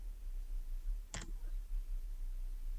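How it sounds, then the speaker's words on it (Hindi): A single Enter key press on a computer keyboard during work in Microsoft Word, heard as one crisp, close click standing alone over a faint steady background hum. "उसके बाद एंटर प्रेस करती हूँ।"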